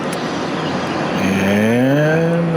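A USAF Boeing C-32 (757) jet taxiing for departure at Atlanta, a loud steady engine roar with a rising whine that sweeps upward partway through.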